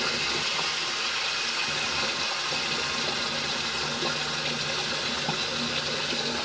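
Running water rinses shaving cream off skin, a steady broadband wash of tap flow holding even and close for several seconds with no talk.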